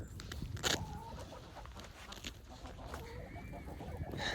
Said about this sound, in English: One of those 3, the rooster, Popcorn, he's back in